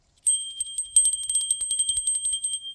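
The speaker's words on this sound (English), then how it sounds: "now I have one bell" A small bell is rung in a rapid series of bright, ringing strikes, about a dozen close together over two seconds, clear and close with no talking.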